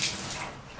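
Shower water runs steadily into a bathtub and drains, a constant broadband hiss of spray close by, with no voices.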